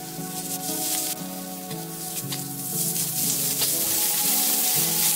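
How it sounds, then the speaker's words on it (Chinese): Shredded green pepper and carrot sizzle in a hot wok while being stir-fried. A bright, steady frying hiss carries throughout, broken by repeated scraping and tossing strokes of the spatula. "把这青椒丝呢先给它翻炒至断身"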